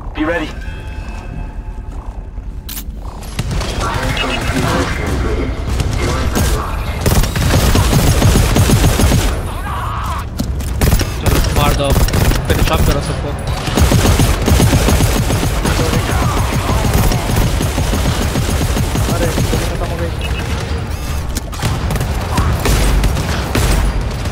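Rapid bursts of turret gunfire in the video game GTFO rattle almost nonstop, loud and close, with excited voices talking over the shooting.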